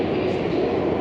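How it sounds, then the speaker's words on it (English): An underground train pulls into the quiet platform at Manor House station, a loud, steady, broad rumble filling the whole moment. "we got the next train coming in"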